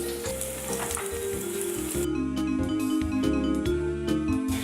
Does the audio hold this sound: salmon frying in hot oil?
yes